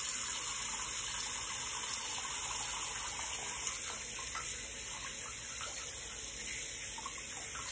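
A bathroom tap runs steadily while someone rinses their face after a shave with a 1960 Gillette Flare tip razor, a constant hissing gush of water with faint splashing, fairly quiet and unbroken.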